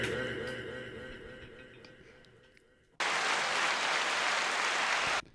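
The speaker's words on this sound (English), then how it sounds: "that was canned applause, man" Canned applause sound effect bursts in abruptly and loudly, a dense sustained clapping and cheering that plays for about two seconds then cuts off, following a stretch of quieter background music and talk.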